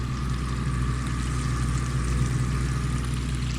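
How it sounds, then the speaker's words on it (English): Water from a garden hose rushes steadily through a buried terracotta pipe on a hillside, a constant full-bodied flow with a low rumble and no talk. "we got really good water flow with the garden hose"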